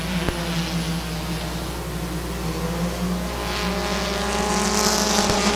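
Race cars circle Midvale Speedway in a continuous loud engine roar with steady droning tones, rising slightly toward the end as a pack passes by.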